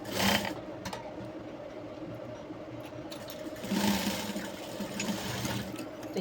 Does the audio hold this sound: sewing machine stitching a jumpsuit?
yes